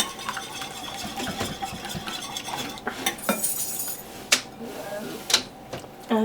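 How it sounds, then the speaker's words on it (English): Eggs whisked in a bowl for cottage cheese pancakes, giving close, irregular clinks and scrapes of metal against the bowl with a few sharper taps, moderately loud without speech. "So now we'll just whisk up our eggs."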